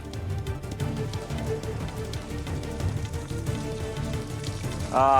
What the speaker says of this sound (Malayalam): കൊച്ചിയിൽ നല്ല മഴയാണ്.